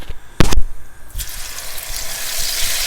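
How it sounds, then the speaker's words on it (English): Spiced kelewele plantain pieces go into hot oil on medium heat, giving a brief loud splash followed by a steady, close hiss of frying that continues to the end. "And then we'll be ready to fry this kelewele."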